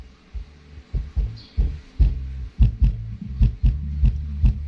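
Deep, thumping bass pulses from a Polk Audio PSW125 subwoofer, repeating in a steady beat with strong low-end punch and no voices.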